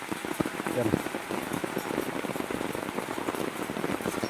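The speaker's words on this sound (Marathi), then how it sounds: "पाऊस जोरात चालू असा लागता" Steady heavy rain pours down in a dense, continuous hiss, close by and loud throughout, with a few louder drips and patters mixed in.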